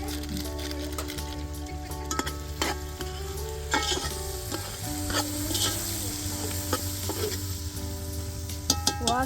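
Onion, cashews and peas being roasted in a pan with Badshah garam masala, a close continuous sizzle with frequent spoon scrapes and ticks against the pan, plus a low steady hum underneath.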